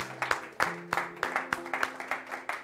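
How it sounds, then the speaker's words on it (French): A church congregation claps together in a steady, rhythmic beat of roughly three claps per second, loud and close, while low sustained keyboard tones hold underneath. "Acclame, acclame bien, acclame encore."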